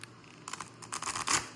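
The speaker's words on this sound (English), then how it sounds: "I'm just going to shuffle again" Tarot cards being shuffled by hand, a few short papery riffles and flutters close up, quiet and brief.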